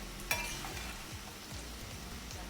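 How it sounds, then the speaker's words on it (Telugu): Okra (bhindi) coated in gram flour and spices frying crisp in a pan, a steady soft sizzle with a few clinks and scrapes from stirring, quiet and close. "బెండకాయ ఇలా ఫ్రై అవ్వాలి కొంచెం క్రిస్పీగా అవుతాయి"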